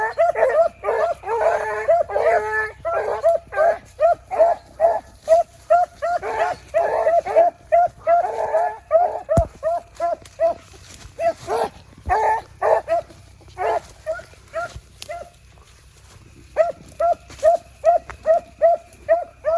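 A hunting dog bays and yips on a rabbit trail in rapid, steady bursts, loud and close, repeating almost continuously with brief pauses.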